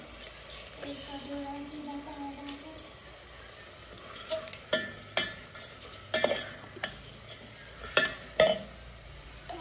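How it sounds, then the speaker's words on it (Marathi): Dal tipped into a cooking pot and stirred in a village kitchen, a close run of scraping spoon clicks and soft sizzling, with irregular louder knocks toward the end and a faint voice in the background. "ही डाळ आहे ही पहिला टाकते."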